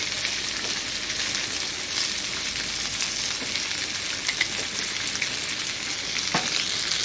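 Steak and potatoes frying on a flat top griddle with onions, a steady dense sizzle and crackle that runs without a break throughout, close and fairly loud, with a few sharper pops.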